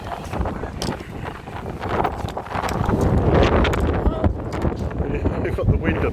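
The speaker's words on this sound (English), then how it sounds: "We've got the wind up here, haven't we?" Gusty wind buffets the microphone high up outdoors, rising and falling in loud rushes, with people talking intermittently over it.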